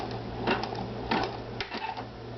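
A Pfaff 2170 embroidery and sewing machine stitches a design, producing a close, steady mechanical hum with a few quick bursts of rapid clattering needle strokes.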